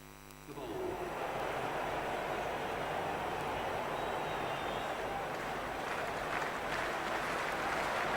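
Steady, loud stadium crowd roar in a Cricket 26 T20 World Cup match after a boundary four, rising from a quieter start into sustained cheering and applause that holds throughout.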